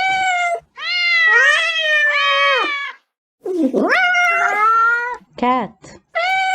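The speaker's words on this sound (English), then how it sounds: "cat" A cat meowing repeatedly in close, loud, drawn-out calls, several long rising and falling meows in a row with short gaps, some strained and wailing.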